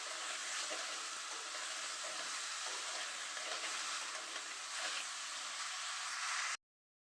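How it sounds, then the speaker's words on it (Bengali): Eggplant frying in a pan with onion and chili for a dried kachki fish curry, a steady loud sizzle with faint stirring that runs alone throughout and then stops abruptly near the end. "বেগুনটাও আমি পেঁয়াজ আর মরিচের সাথে একটু ভাজা ভাজা করে নেব"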